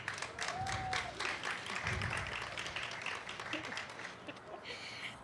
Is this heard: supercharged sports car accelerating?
no